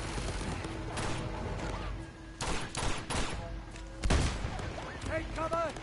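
Machine gun fire in Uncharted: The Nathan Drake Collection, several bursts of rapid shots amid game sounds, with a voice talking over parts of it.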